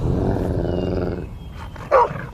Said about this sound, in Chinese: 小狗狗，它要偷袭你！